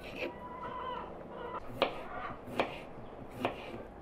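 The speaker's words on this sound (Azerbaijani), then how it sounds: "2 ədəd də kök doğrayıram" A knife chops carrots on a board in a quiet kitchen. Three or four sharp, isolated cuts come at uneven intervals over a low background hum.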